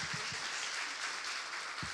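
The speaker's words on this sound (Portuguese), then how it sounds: "Uma salva de palmas" A women's church gathering gives a round of applause, a faint, dense wash of hand clapping from the audience throughout, with a few soft low knocks.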